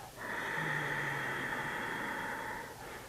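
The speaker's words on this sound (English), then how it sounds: "you make a little constriction in the back of the throat and you make this kind of snoring sound like this" Ujjayi breathing, a slow exhale through a constricted throat that makes a soft snoring-like hiss, one steady breath held for about three seconds and heard alone up close.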